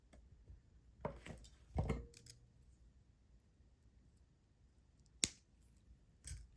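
Several sharp metallic snips and clicks from cutters trimming excess wire on a beginner pearl ribbon necklace, close and fairly quiet, spaced apart with a louder crisp cut near the end.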